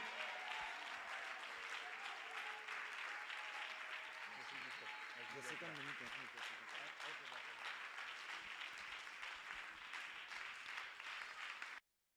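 A church congregation claps and cheers steadily and loudly for a servant of the Lord at a worship event, sustained applause filling the room until it cuts off abruptly.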